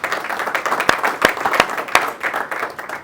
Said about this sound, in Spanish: Dar un aplauso a Cristo por tu vida.